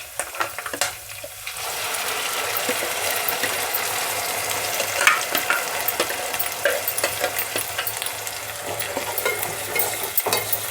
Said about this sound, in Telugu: కొద్దిసేపు వేగనిద్దాము